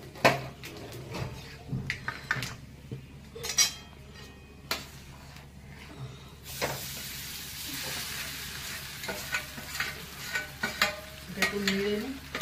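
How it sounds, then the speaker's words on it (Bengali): Black cumin seeds fry in oil in a wok while a utensil stirs and scrapes, giving intermittent metallic clinks and scrapes over a low sizzle that swells louder in the second half. "কড়াই তেল দিলাম, কালো জিরে দিয়েছি। আচ্ছা দিয়ে এটাকে নাড়বো"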